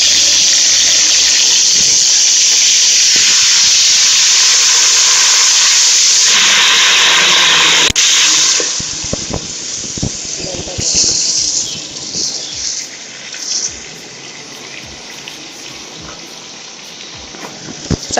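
Two medium tomatoes go into a hot pan with white cumin, setting off a loud steamy hiss and sizzle that holds for several seconds, then eases into quieter crackling with scattered clicks and clatter.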